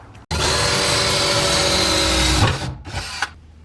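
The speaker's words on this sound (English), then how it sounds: "So we're going to drill a new hole for our ground wire" A power drill whines loudly and steadily as it bores a hole through the bare metal of a 1973 Camaro's body for a ground wire, then cuts off with two short follow-up bursts.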